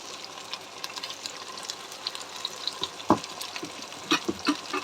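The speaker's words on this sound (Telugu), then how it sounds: "అల్లం ఎల్లిపాయ పేస్ట్ వేసుకోవాలి" Ginger-garlic paste fries in a pan for a Punjabi-style paneer curry, a steady low sizzle with scattered crackles and a few stirring scrapes, no voices.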